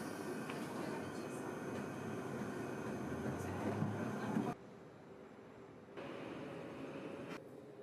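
A London Underground Piccadilly line train rumbles with a steady loud roar, which then drops abruptly to a quieter hum and rises again, like running through tunnels and passing into stations.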